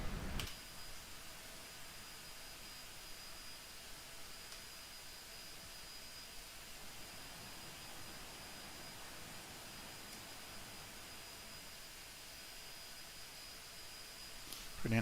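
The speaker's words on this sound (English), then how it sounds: "Pretty nice little quiet jet." A C-101CC trainer jet's engine runs in the DCS flight simulator, giving a steady, faint, even hiss and whine that holds unchanged for about fifteen seconds without any talking.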